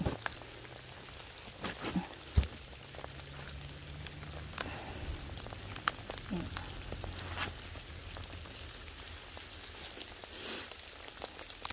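Steady rain patters and crackles across the whole stretch, with scattered sharper drops, likely hail, standing out against the soft wash of noise, outdoors in a field.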